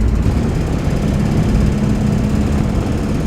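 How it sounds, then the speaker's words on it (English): A Standard 8 from the 1950s with its 803cc inline four-cylinder engine runs steadily at close range, a constant, even low rumble with no voices over it. "Regular gear shift engine, inline 4-cylinder engine over there."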